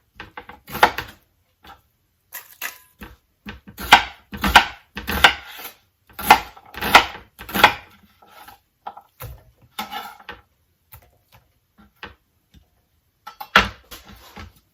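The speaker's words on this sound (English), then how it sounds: "Just a rough chop is all it needs." Knife roughly chopping vegetables on a board for sweet potato soup, irregular bursts of close, sharp thuds with quiet pauses between them.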